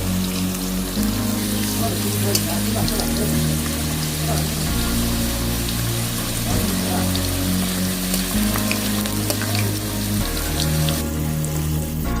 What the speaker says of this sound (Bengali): আলুগুলো ভালো করে হালকা লাল লাল করে ভেজে নেব।